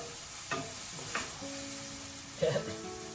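Taco salad ingredients sizzle softly in a pan while being stirred, with a few brief utensil scrapes and clinks standing out over the quiet, even frying hiss.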